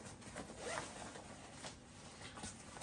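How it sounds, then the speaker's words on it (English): Zippers on the side pockets of a CastleX riding suit being pulled open and shut, a series of quick, close raspy zips repeating over a few seconds. "They did zippers on the pockets, on the sides of the front pockets."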